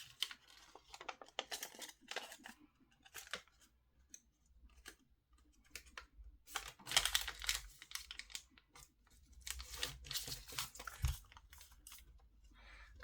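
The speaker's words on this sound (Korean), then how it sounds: "반대쪽도 넣어 접어줍니다." Paper creased and tucked while folding an origami dinosaur, heard as scattered soft crinkles and rustles at close range, with denser bursts of handling partway through and no talking.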